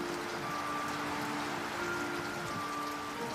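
Steady rain falls during a storm at Aikendal in the African bush, a dense, even patter and hiss that carries on without a break and with no voices.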